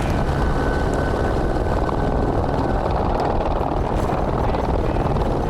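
A helicopter's steady, heavy rotor roar fills the scene continuously, loud and close, with no voices, as it flies water to remote wildlife areas in Arizona.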